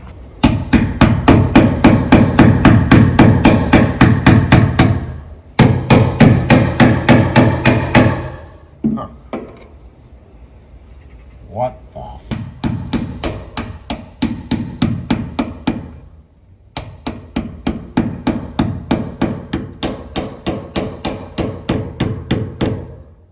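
Rapid hammer blows pound on hardened rivets on an overland expedition truck build, coming in fast sharp bursts of regular strikes with short pauses between runs, loud and close with no talk.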